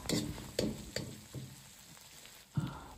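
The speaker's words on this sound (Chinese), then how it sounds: "继续翻炒几下，放入少许的郫县豆瓣酱" Ingredients are tossed in a wok with Pixian doubanjiang while frying radish, giving a quiet sizzle broken by several scraping stir strokes spaced a fraction of a second apart.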